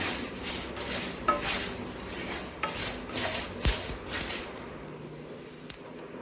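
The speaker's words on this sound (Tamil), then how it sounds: "மிளகு ஜீரகம் இதையும் நம்ம வறுக்கிற பொருட்களோட சேர்த்துக்கலாம்" Pepper and cumin being dry-roasted with other whole spices in a pan for mutton kuzhambu, a steady scraping stir with occasional clinks of a spoon against metal, close and moderately loud with no talking.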